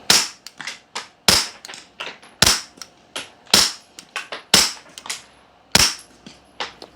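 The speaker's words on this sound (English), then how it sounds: "subsonic ammo in a suppressed pistol, it'll just put a smile on your face" A pistol with a Banish 9 suppressor fires subsonic ammo in a series of sharp, close cracks, each with a short tail, spaced about a second apart with a few quieter clicks between.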